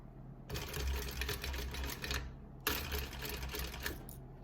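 A sewing machine stitches a zipper side seam in two quick bursts of rapid mechanical whirring and clatter, close and steady, separated by a short pause, with no talking.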